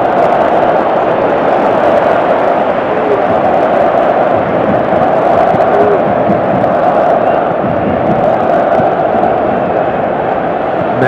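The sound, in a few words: stadium crowd calling in PES 2018 video game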